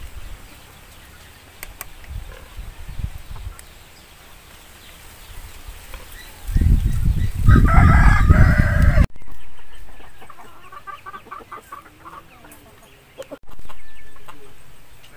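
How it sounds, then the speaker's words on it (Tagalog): Free-range Basilan native chickens cluck and squawk close by, with a loud burst of flapping and cackling in the middle, followed by scattered clucks and short calls. "Tapos yung mga manok ko nasa lobo."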